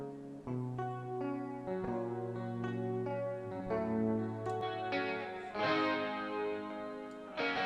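A dry, unprocessed electric guitar plays a short run of plucked notes and chords, sounding thin and clean without distortion.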